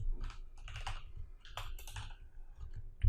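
Rapid typing on a computer keyboard while entering an SQL query, uneven bursts of close, crisp key clicks with brief pauses between them.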